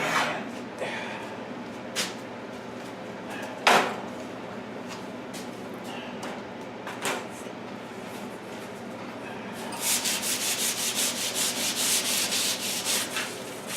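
Paint and built-up grime are scraped and rubbed off an electric baseboard heater during a home office remodel. Scattered sharp scrapes give way to a run of fast, rhythmic, louder scraping strokes.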